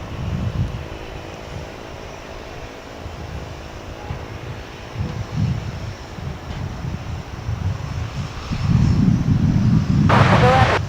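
An airplane taxiing across runway 18 right at DFW airport makes a low engine rumble with wind buffeting, building louder in the last few seconds and ending in a burst of broadband roar.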